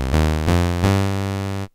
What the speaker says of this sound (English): And two approximates a sawtooth wave.